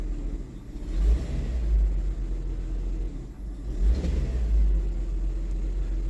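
A Kia engine with a misfire idles in a low rumble, surging twice in uneven swells that rise and fall, heard close and without talk.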